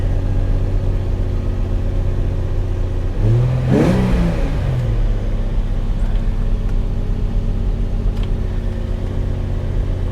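A used car at a Copart salvage yard idles with a steady drone, then gives one brief rev that swells and falls back to idle, heard up close.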